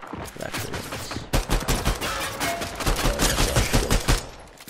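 Rapid, dense bursts of gunfire from the video game Fortnite Ballistic, firing almost continuously and loud and close, with short pauses between volleys and no talking.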